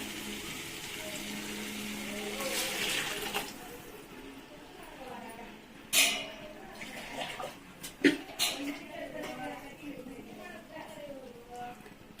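Water poured into a pot of rice for home-style mutton biryani, a soft gushing pour early on followed by clanks of a vessel and scattered splashes, with a person talking over it.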